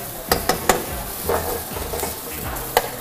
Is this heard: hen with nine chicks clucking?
no